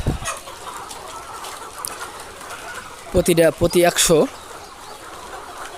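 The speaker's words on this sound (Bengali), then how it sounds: "খুব সুন্দরভাবে ঠোকাই ঠোকাই খাচ্ছে" Chickens on a poultry farm cluck while pecking at their afternoon feed, a quick cluster of clear clucks rising briefly above steady farmyard background, with a person speaking nearby.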